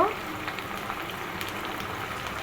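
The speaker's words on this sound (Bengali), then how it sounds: "পেঁয়াজ আর কাঁচামরিচ হলো ভাজতেছি" Onions and green chillies fry in a pan with a steady, close hiss and fine crackling sizzle throughout.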